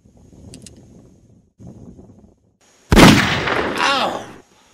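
A gunshot rings out outdoors at a rural camp, where a boy named Zach fires at a target: a single sharp, loud blast after quiet talk, its broad crack trailing into a noisy decay and a voice yelling over it.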